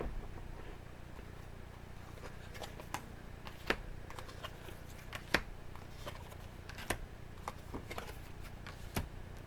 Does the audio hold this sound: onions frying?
no